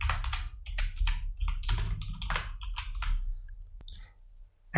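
Rapid typing on a computer keyboard, with a steady run of close, crisp key clicks in uneven bursts and a brief pause near the end.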